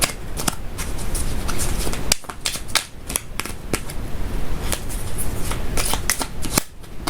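Angel oracle cards being shuffled by hand in a quiet room, a dense run of crisp riffling flicks and snaps with brief pauses between bursts, close and fairly loud, with no talking.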